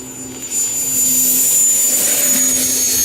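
A Freewing L-39 Albatros 80mm electric ducted fan RC jet spools up for a mid-flap takeoff from grass, its loud steady whine and rushing air rising quickly and holding close.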